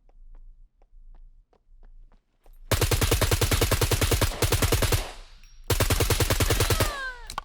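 Rapid automatic gunfire in the survival shooter SCUM, two long loud bursts of steady close shots separated by a brief pause, preceded by a few quiet footstep-like taps.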